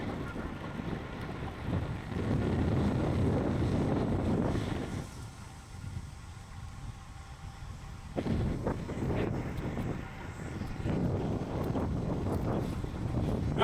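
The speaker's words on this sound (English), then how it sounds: "We're battling a freaking headwind right now" Strong headwind roars against the microphone while a rider cycles through the final stretch of a 100-mile ride, a steady broadband buffeting that dips briefly and then surges back, with no talking heard.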